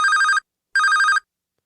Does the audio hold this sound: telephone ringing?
yes